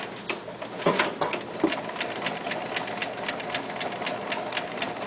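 Domestic sewing machine stitching a back-and-forth bar tack at the bottom of a fly zipper, heard as a steady, close, rapid whir of needle strokes with small bumps where the stitching reverses.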